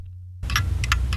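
Recorded hand clock ticking played back in Bitwig, starting after a brief quiet gap, then a few sharp, close clicks at an uneven rhythm over a steady low hum.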